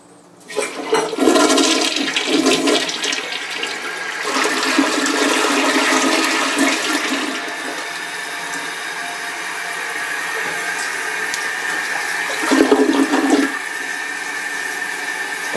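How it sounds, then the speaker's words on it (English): A hotel toilet at a Homewood Suites in Bentonville-Rogers flushes with a loud rushing whoosh, then a long steady refill hiss, and a second surge near the end; no speech. "And now we're going to flush the commode."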